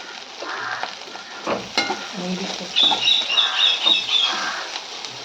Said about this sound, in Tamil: அடுத்து அதே பேன்லேயே அப்படியே கருவாடை போட்டு எடுத்துக்கலாம்